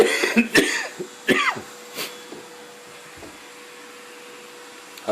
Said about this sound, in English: All right, vacuum under the bed.